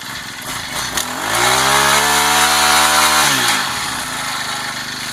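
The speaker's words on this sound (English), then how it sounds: "As you can also tell, quite a quiet engine. This thing just kind of purrs along." A small Honda mini tiller gas engine hums steadily close by, revving up to a higher pitch for a few seconds before easing back to a lower idle.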